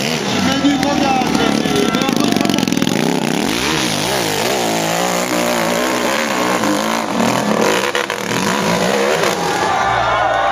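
Engine screaming at hard throttle during the 2013 Montée Impossible hill climb, rising and falling revs sustained loud throughout while a commentator talks excitedly over it.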